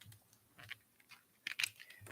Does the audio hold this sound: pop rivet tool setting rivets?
no